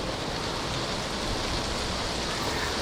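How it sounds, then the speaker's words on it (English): Steady, dense hiss of heavy rain pouring down without a break at an amusement park, close and loud, with no voices. "My last day, it was heavy rain for quite a while,"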